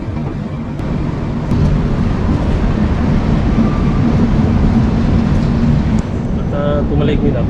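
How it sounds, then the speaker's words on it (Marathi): The Mandvi Express pulls out of Mumbai CST, a loud continuous rumble of wheels and carriage noise with wind buffeting, heard from inside a combined first and second class coach. "आता गाडी बघा आपली CSTवरून सुटलेली आहे."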